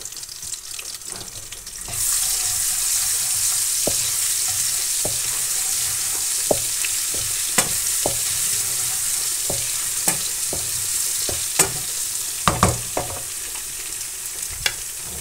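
Garlic hits hot oil for tempering moong dal, bursting into a loud, steady sizzle at about two seconds after a quieter start, with scattered clicks and scrapes of stirring on top and no talking.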